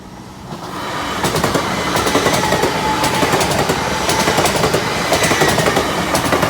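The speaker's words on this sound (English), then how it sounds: "Here's our train" A train passes Moat Hills level crossing, rising quickly into a loud, sustained rumble with rhythmic clickety-clack of wheels over rail joints, close by and without talk.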